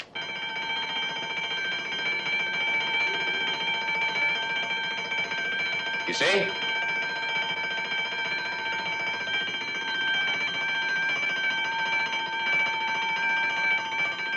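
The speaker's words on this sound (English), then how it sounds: "I'm going to trigger the alarm." A triggered burglar alarm system rings as a steady, continuous electronic bell tone under room ambience, with a brief sharp clatter midway and someone speaking briefly.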